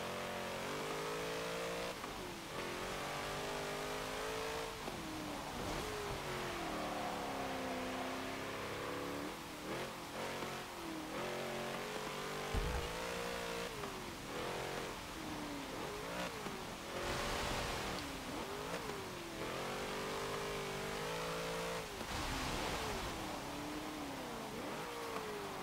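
A 1967 Volkswagen Karmann Ghia in Forza Motorsport 7 drives continuously, its engine revving up and down through gear changes in a steady, close, moderately loud drone.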